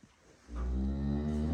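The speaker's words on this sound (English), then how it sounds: "did we call our cow Rainbow?" A cow lows inside a barn on a Wisconsin farm, one long, deep, sustained moo that starts about a third of the way in and holds steady to the end, close and fairly loud.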